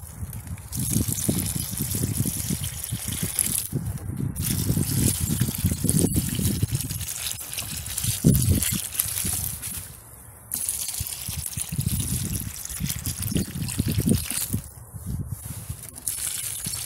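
Water pours and splashes onto garden soil around transplanted nasturtium pea plants in a steady, close gush that briefly pauses a few times, with no talking.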